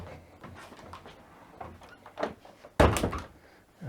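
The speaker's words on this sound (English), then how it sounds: "Let's close this door." A door closed during a DIY build of a dirty drainer, with quiet handling and shuffling noises before one sharp, close wooden thunk as it shuts, then a little rattle.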